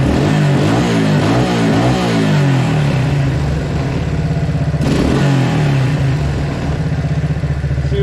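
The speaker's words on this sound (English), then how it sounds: "If I take my hand and I cover the intake just a little bit, it revs up great" A 1993 Suzuki King Quad 300 ATV engine revs loudly up close, rising and falling in pitch with a rough clattering exhaust, climbing again after a brief dip.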